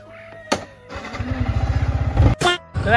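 A motorcycle engine starts and revs with a rapid pulsing putter, close by, followed by a couple of short bursts of noise.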